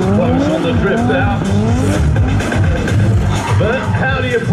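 A drift bike with an extended swing arm skids its tires through a drift at a 2023 European finals event: loud, continuous tire squeal over a revving, rising and falling engine whine, close and sustained.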